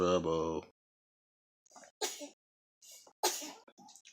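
A short voiced sound opens, then after a pause come two sharp, breathy sneezes about a second apart, each with a small catch of breath before it.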